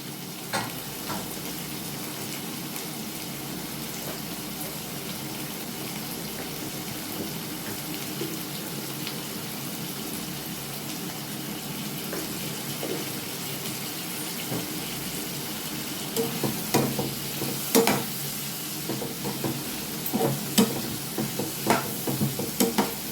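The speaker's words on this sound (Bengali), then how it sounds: "আলুটা ভালো করে ভেজে নেব।" Potatoes with turmeric fry in a pan with a continuous close sizzling hiss, joined by occasional scraping stirs and utensil clicks that grow more frequent toward the end, with no talking.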